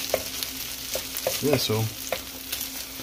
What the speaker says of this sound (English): I'm just gonna stir it all in there, make sure it all gets in there.